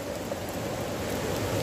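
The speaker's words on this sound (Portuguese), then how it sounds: "Ainda não tinha visto essas enxurradas tão de perto." Heavy rain during a flash flood on a campsite trail, a dense, continuous roar of falling water and rushing runoff, steady and fairly loud throughout, with no voices.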